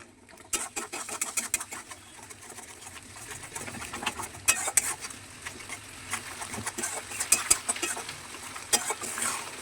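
Garlic chicken gravy with yogurt being stirred in a pan, giving soft intermittent scraping and clinking taps with a faint patter, moderately near and steady across the stretch without talk.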